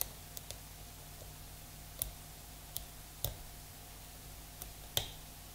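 Pin tumblers clicking inside a Vachette V5 lock as it is picked with a Peterson pick under light tension: a handful of small, sharp, isolated clicks spaced irregularly against a quiet background.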